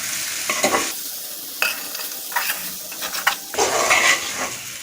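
Beef khichuri is stirred in a pot over medium heat. A spoon scrapes and clanks against the metal in uneven bursts over a soft background sizzle, close up and with no voices.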